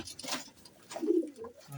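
Soft, low cooing from pigeons, a couple of short murmuring phrases over faint background rustle.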